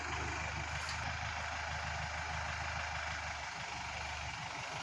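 A Kubota M6040 tractor hitched to a trailer reverses out of a home driveway. Its engine gives a faint, steady low rumble at idle-like revs, continuous and unaccompanied throughout.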